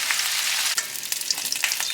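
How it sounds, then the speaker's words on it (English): Shrimp shells frying in hot oil, a loud, dense and continuous crackling sizzle with a few small pops, close up and with no voices. "So I'm going to go ahead and cook up and fry up these shells"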